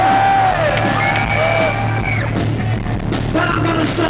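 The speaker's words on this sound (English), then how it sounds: "You scream at the top of your lungs" A concert crowd at a show screams and yells at full volume, a dense, sustained roar of many voices with some whistling tones on top.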